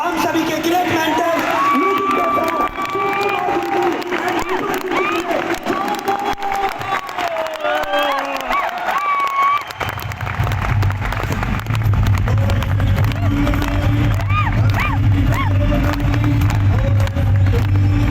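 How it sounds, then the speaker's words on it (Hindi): A large crowd at an event in Delhi's Indira Gandhi stadium applauds and cheers, a dense, loud, sustained roar of clapping and voices that swells further partway through. "अब तक की सबसे जोरदार ताली हम सभी के ग्रेट मेंटर"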